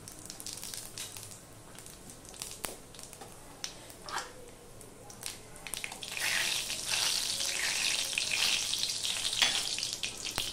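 Panch phoron and a broken dry red chilli sizzle in hot oil in a kadai, a steady close crackle with sharp pops that swells louder and hissier partway through, with no voices.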